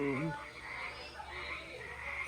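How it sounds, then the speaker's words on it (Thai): Small frogs croak steadily at night near a sleeping area, a dense, continuous chorus of overlapping calls, fairly faint and distant, with no talk. "เขียดมันห้องพวกแก้วอยู่เทิงหัวบ่อนนอนข่อยนี่"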